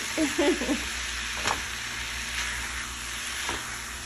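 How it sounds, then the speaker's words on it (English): Ground taco meat sizzles steadily in a hot pan, a continuous close hiss with a few faint clinks of stirring, and a brief voice murmurs at the start. "we're just gonna let this meat cook"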